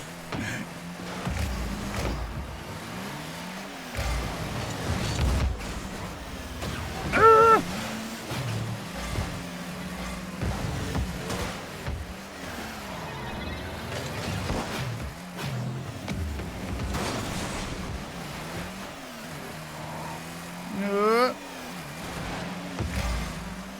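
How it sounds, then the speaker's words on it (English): A car engine in Rocket League revs and shifts up and down in pitch with occasional whooshes, moderately loud and steady, with game-like mechanical tones throughout. "why doesn't this car sound like my car"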